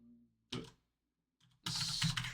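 Keys tapped on a computer keyboard while entering text into Canva desktop, heard as two short bursts of typing separated by a brief pause, close and clear with no talking.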